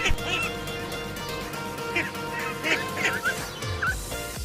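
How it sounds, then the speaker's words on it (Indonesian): A duck quacks in a few short, scattered calls over a steady background hum, with faint speech nearby. "bebek."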